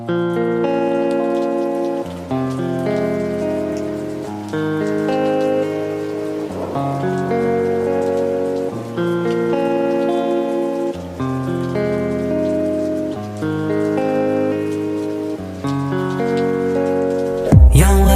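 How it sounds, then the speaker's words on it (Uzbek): Steady rain patters softly beneath a slow, sustained musical accompaniment that plays throughout, with no voices. "Tomchi tomchi yomg'ir yuzlarimdan oqardi."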